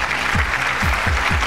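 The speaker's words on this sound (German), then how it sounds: "Bitte einen kleinen Applaus." A TV show studio audience in Cologne applauds, dense continuous clapping with rhythmic low thumps, close and steady for the whole short stretch, with no talking.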